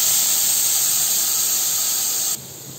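Paneer sizzles in a hot kadai with roasted spice powders, a loud steady hiss that holds throughout and then drops off sharply near the end.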